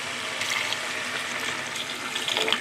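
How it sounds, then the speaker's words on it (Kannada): Water pours steadily into a pot of drumstick sambar during home cooking, a continuous close splashing rush that holds for a few seconds with no talk. "ಇವಾಗ ನೀರು ಹಾಕ್ತಾಯಿದ್ದೀನಿ."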